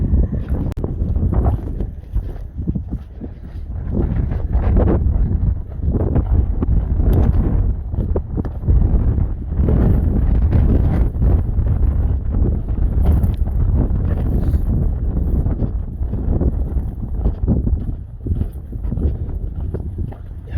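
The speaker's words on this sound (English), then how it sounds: "Nevada is so windy, you guys." Strong, steady Nevada wind buffeting a microphone outdoors near Carson, with low rumbling gusts that rise and fall continuously throughout, no voices.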